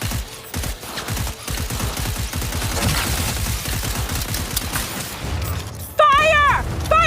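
Rapid gunfire in Cyberpunk 2077 Phantom Liberty, a dense rattling fusillade running under a shouting voice, followed by mechanical clatter and a whining electronic tone near the end.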